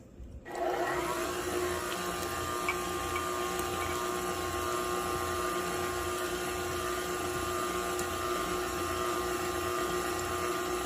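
An electric mixer whirs steadily through cake batter flavored with almond extract and vanilla, a loud continuous motor drone starting after a brief moment and holding unchanged, with no talking.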